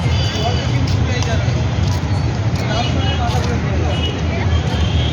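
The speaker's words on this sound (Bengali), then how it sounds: "এটা হচ্ছে আমাদের মেন হাইওয়ে" Roadside traffic on a main highway near Eco Park in Kolkata: a continuous wash of passing cars, buses and trucks with engine rumble, and voices murmuring nearby.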